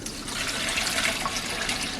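Liquid from sweet pickles poured into a colander in a kitchen sink, a loud, continuous splashing gush heard up close with no talking.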